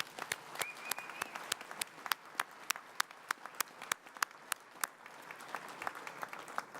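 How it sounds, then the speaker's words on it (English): A gala audience at an annual charity tribute dinner claps, with sharp individual claps standing out sharply and regularly over a thinner bed of applause; no voices. "Let's give them another round of applause."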